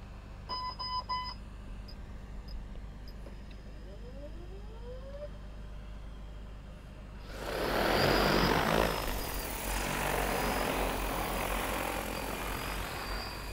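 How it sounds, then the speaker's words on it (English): After a few quiet beeps, a DJI Agras T20P agricultural spray drone starts up for takeoff with a sudden whirring multi-rotor roar that stays loud and steady close by. "we're actually going to take off manually and start it when we get out in there"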